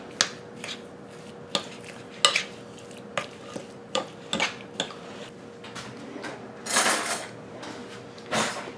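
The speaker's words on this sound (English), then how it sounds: "I'm going to mix my sugar and my cornstarch with my berries. Just stir it up really good." Sugar, cornstarch and cherries stirred together in a bowl for pie filling. Sharp, irregular utensil clinks and scrapes sound against the bowl, with a couple of longer rustling swirls near the end. No voices.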